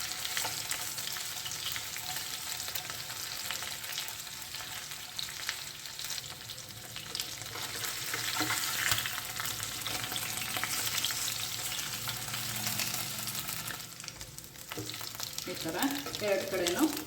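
Goan chicken cafreal pieces frying in a pan with a steady dense sizzle throughout, occasional stirring scrapes and shifts near the end.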